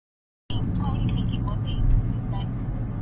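Steady interior road rumble from a moving car on a trip in Botswana, with a brief rise in loudness partway through; a person speaks over the continuous low drone.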